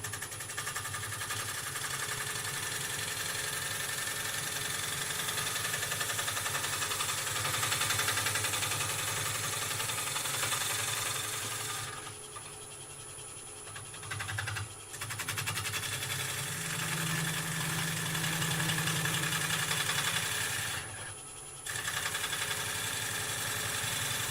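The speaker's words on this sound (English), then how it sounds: "We're spinning at 670. I'm going to rub the side bevel and then roll the gouge over." A wood lathe spins at 670 rpm as a gouge rolls along the side bevel of the turning wood, producing a steady, close mechanical hum with a low drone that briefly dips twice.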